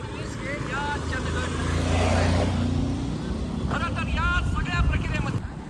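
Vehicles roll past at a road junction in Chandgad where a rally is under way, a steady engine rumble swelling to a near pass and easing off, with people talking over the traffic.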